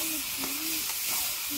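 Boiled dal poured into a pan of egg tadka, giving a steady broadband sizzle and hiss with faint background voice-like tones, continuous throughout at moderate loudness.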